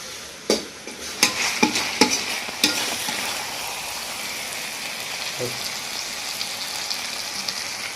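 Meat being stir-fried with spices in a pan, a steady close sizzle with several sharp scraping clacks of a spoon early on, then continuous frying hiss with no talk.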